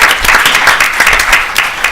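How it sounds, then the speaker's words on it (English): A short, close burst of audience applause at a conference closing panel, loud and dense with uneven swells of clapping. "if we could just give them a round of applause"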